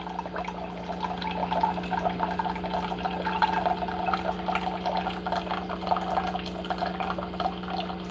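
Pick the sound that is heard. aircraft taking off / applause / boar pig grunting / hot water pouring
hot water pouring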